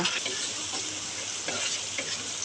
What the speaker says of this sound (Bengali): মশলাটাকে একটু তেলের সাথে ভেজে নেব।